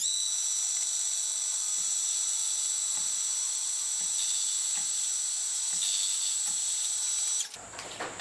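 A milling machine cuts a bronze casting held in a collet block in a vise, giving a loud, steady high-pitched whine with faint rhythmic ticks beneath. It ends abruptly near the end as the cut stops.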